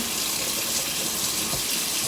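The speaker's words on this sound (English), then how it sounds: "I'm going to be filling this side of the sink with some cold water." Cold tap water pours steadily into one side of a kitchen sink, a loud, constant rushing hiss with no pauses and no voices over it.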